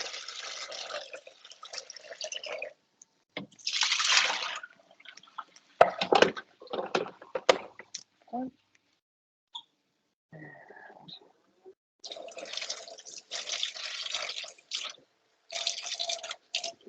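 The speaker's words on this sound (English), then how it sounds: "So we're gonna rinse this out." Running tap water rinses out a kitchen container, with broadband splashing and trickling in uneven bursts, pauses of near silence between, then steady flowing water toward the end.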